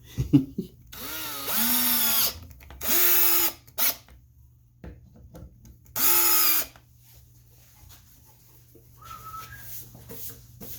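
Powered screwdriver driving screws into a screen printing press frame, three loud whirring bursts that wind up and stop, with quieter handling noises between them.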